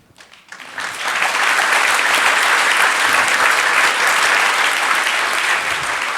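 An audience at a history lecture about Sherlock Holmes bursts into applause after a quiet moment, swelling within a second into loud, sustained clapping that holds steady to the end.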